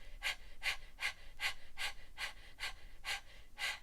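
Rhythmic panting from a somatic breath exercise, about nine quick, evenly spaced breathy puffs at a steady pace, close and fairly soft, with no talking.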